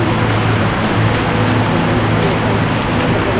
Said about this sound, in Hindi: और ज़ोर से बारिश शुरू हो चुकी है